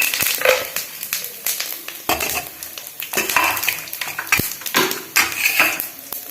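Mustard seeds, cumin and peanuts fry in hot oil in a pan, with sizzling and popping under repeated scraping and stirring strokes of a utensil against the pan, coming in uneven bursts at close range.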